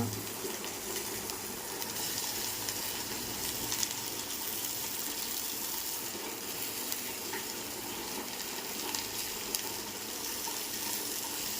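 Capsicum and onion frying in a pan over low heat, a continuous soft sizzling hiss that stays even throughout, fairly quiet with no clear talk.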